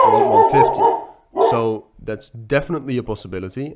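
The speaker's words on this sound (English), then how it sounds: "That was my dog for no reason." A pet dog barks a few times in a home, the short yips breaking in among someone talking about crypto prices.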